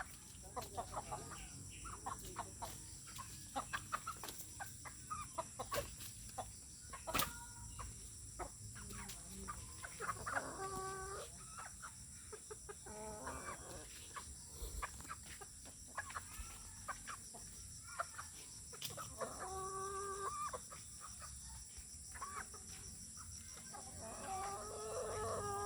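Chickens cluck repeatedly while a rooster crows several times in a farmyard, steady and fairly near, with some faint background noise throughout.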